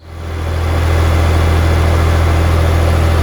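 A tractor engine idles and runs steadily with a deep, constant low rumble and vibration, loud and close, on a job hauling a bucket loaded with bricks for a retaining wall cap; no talking.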